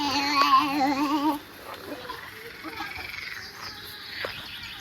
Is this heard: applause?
no